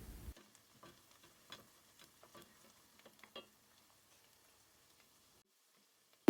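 Onions and garlic frying in butter and oil as they are sautéed for a potato soup, giving a quiet, intermittent sizzle with soft stirring scrapes and no talk.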